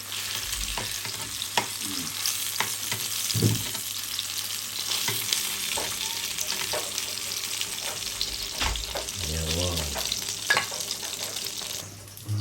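Breakfast frying and sizzling in a pan in a home kitchen, with steady crackle, occasional stirring clatter and a brief run of tap water.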